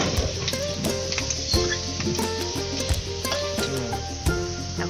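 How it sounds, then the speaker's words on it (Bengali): Potatoes sizzle and crackle steadily in hot oil in a pan, with scraping stirs and small clinks throughout, close and continuous with no talking. "তার জন্য তেলের উপর আলুগুলো দিয়ে দিলাম"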